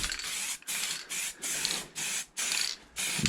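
Car wiper arms being spray painted, short hissing aerosol bursts repeated about six times in a steady on-off rhythm, close and fairly loud with no talking.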